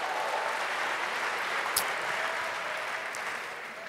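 A church congregation at a Sunday morning service applauds in a steady, even wash of clapping, moderately distant and fairly quiet, with no speech over it.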